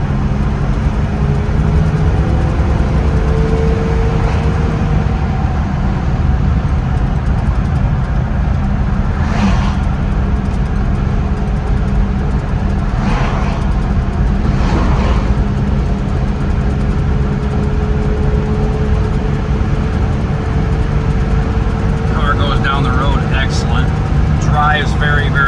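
A 1953 Buick Roadmaster with its 331 Nailhead V8 cruises along a road, a steady low engine and road drone running throughout, with a few brief higher sounds and faint clicks near the end.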